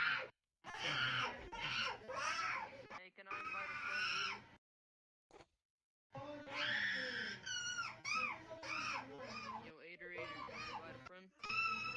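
Screaming and high, wailing cries in VR Chat come in several bursts separated by brief silences, close and shrill, mixed with voices and sobbing-like sounds.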